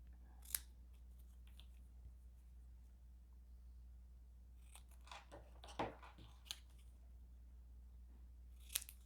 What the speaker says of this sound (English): So you want to cut carefully between the two words so you don't cut off any of your embossing